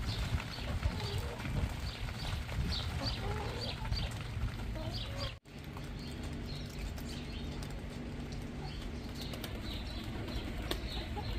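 Hens clucking outdoors in the rain, scattered soft clucks and calls at moderate distance over a steady background wash, with a brief dropout midway.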